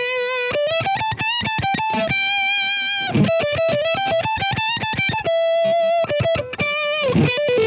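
Electric guitar run through a Line 6 Helix valve driver overdrive, playing a quick melodic line of sustained distorted notes with bright harmonics, loud and alone.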